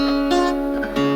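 A strummed acoustic guitar chord rings steadily with a few soft restrikes and sustains evenly at moderate volume, played as a first-lesson chord shape.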